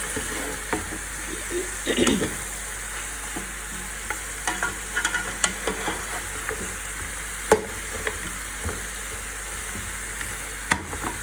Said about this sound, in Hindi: ये देखिए पूरी कोशिश की है मैंने मिक्स करने की इनको